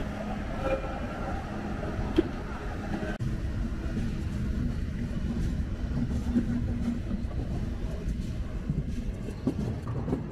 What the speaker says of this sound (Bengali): চিত্রা এক্সপ্রেস এই মুহূর্তে ছেড়ে যাচ্ছে ঈশ্বরদী রেলওয়ে জংশন।